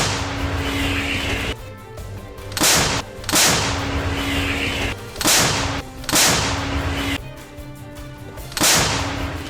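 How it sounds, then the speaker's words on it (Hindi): Several loud, sharp booms of M777 howitzer artillery fire at irregular intervals, each a broad blast with a short rumbling tail over a steady low hum. "रूसी ठिकानों पर फायरिंग करती अमेरिका की M777 हॉवित्जर तोपों का एक धमाकेदार वीडियो"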